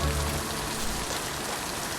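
Steady, dense rain patters continuously in the cozy village life-sim game Littlewood, a full wash of falling drops with no voices over it.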